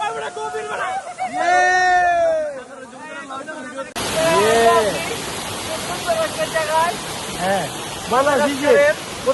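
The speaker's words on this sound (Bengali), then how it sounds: "ওই যে উপরে পিছনে হচ্ছে বড় ঝর্ণা" A large waterfall in the Bandarban hills gives a steady broadband rushing roar, louder in the second half, while several people talk loudly over it close by.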